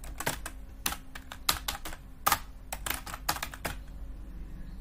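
Someone types a name on a computer keyboard: quick, irregular clusters of crisp key clicks with brief pauses, close and moderately quiet, with no talking.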